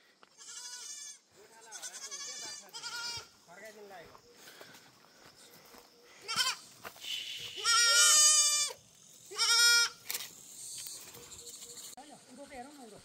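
Goats bleat repeatedly out in the countryside while a herder is nearby, several loud drawn-out cries close to the listener separated by quieter gaps with soft rustling and footsteps.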